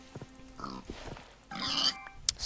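Short bursts of pig grunts and oinks from Minecraft come close and clear, with a louder squeal near the end and pauses between.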